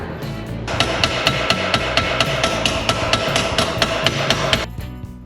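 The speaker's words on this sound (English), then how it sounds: "I'm going to use this little dolly that I made to hammer a curve into the edge of this piece of sheet metal." A hammer beats a curve into the edge of a sheet-metal panel resting on a small homemade dolly, for a 1930 Dodge coupe being turned into a pickup. About fifteen sharp, ringing blows land in a quick, even rhythm, close and loud.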